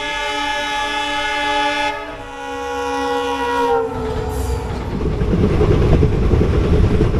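A train arriving in the Thar Desert of Rajasthan blares a long, loud horn with rich harmonics. The horn fades as a rolling rumble of wheels and wagons builds and grows louder up close.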